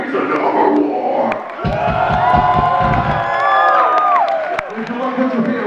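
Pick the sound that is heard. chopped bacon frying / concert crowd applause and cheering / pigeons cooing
concert crowd applause and cheering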